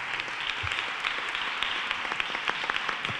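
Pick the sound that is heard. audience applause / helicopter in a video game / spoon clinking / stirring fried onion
audience applause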